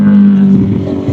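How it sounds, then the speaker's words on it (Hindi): A motorcycle passing on a street gives a loud, steady engine drone with a constant hum, heard close for a brief moment. "देखिए यहाँ गाड़ी का साउंड आ रहा है"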